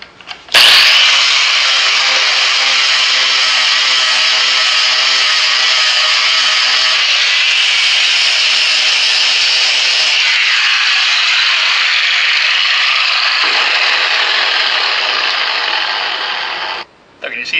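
An angle grinder with an 80 grit flap disc grinds steadily for about sixteen seconds, a loud continuous abrasive whine with a slight shift in tone partway through, starting and stopping abruptly.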